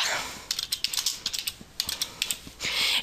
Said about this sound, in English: And you type it in just like you were typing in Word or PowerPoint or anything else